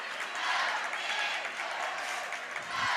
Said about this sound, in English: Crowd chanting, go Big Green.